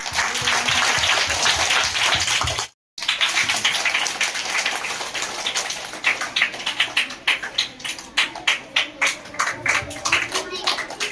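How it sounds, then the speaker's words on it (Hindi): Audience of schoolchildren applauding loudly at a classroom poetry and song recital, dense steady clapping that briefly cuts out and then continues, thinning into separate claps toward the end. "जोरदार तालियां हो जाए"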